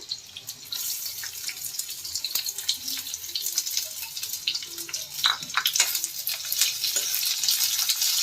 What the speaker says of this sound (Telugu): పచ్చిమిర్చి నూనెలో వేగిన తర్వాత ఉల్లిగడ్డలు వేసుకుంటున్నా